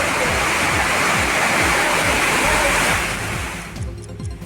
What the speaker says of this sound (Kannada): ದೇವಸ್ಥಾನದ ಪ್ರಾಂಗಣ ಸುತ್ತುಪೌಳಿಗೆ ಮಳೆ ನೀರು ನುಗ್ಗಿ ದೇಗುಲ ಜಲಾವೃತವಾಗಿದೆ.